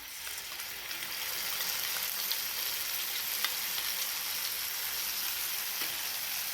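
Okra fries with masala in hot oil, a steady close sizzle and crackle that holds at an even level throughout, with no talk.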